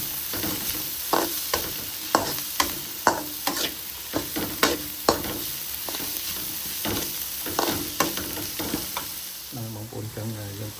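Dried fish fries in a pan with sugar under a constant sizzle, punctuated by rhythmic scraping and clattering strokes of a spatula as it is stirred.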